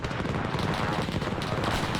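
Dense, continuous gunfire and machine-gun bursts fill a WW2 German-versus-Soviet battle game, loud and unbroken across the whole stretch, with faint voices mixed underneath.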